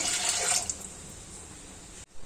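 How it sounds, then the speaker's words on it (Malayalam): Water splashes into a pot of washed wheat being prepared for cooking, a loud close pour at first that thins into a softer trickling wash before stopping. "ഇനി ഗോതമ്പ് ഒന്ന് വേവാൻ ആവശ്യമായിട്ടുള്ള വെള്ളം കൂടെ നമുക്ക് ഒഴിച്ചു കൊടുക്കാം."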